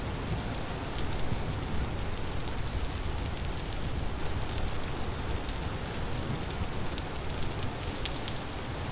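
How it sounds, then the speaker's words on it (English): Continuous rainfall in the video game Vintage Story pours down evenly, dense and hissing, with scattered patters throughout and no speech over it. "Do I need to just not go outside in the rain?"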